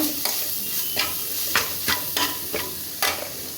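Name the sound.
stirring pointed gourd seeds in a frying pan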